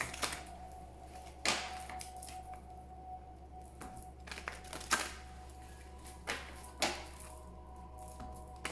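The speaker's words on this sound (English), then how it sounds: "Please think of your question as I shuffle the cards." Oracle cards riffle and slap together in short bursts, a soft papery shuffling with brief pauses between handfuls.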